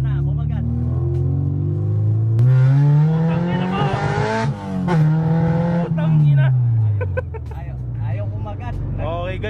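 A 2000 Honda Civic SiR with a B20 VTEC engine revs hard while driving, the loud engine tone climbing and falling in pitch through the gears, with people talking over it.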